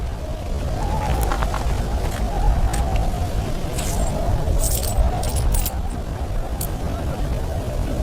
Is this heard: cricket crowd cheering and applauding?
no